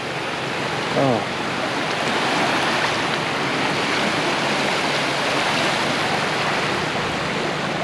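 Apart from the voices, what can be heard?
ocean waves on the beach at Hua Hin, Thailand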